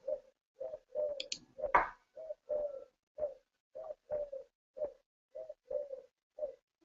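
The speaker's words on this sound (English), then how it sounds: "I don't know how long that bird's going to be there, but it's driving me nuts." A pigeon coos close by in a steady run of about a dozen soft, repeated hoots spaced roughly half a second apart, with a brief flutter or click partway through and no talking.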